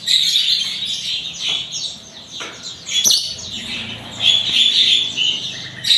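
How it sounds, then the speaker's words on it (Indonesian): Female oriental magpie-robin (kacer) from West Java, big-bodied and caged at a bird dealer, giving repeated bright chirps and short whistled calls, close and clear, with a few sharp clicks and rustles between phrases. "Kacer betina siapan Jawa Barat ya."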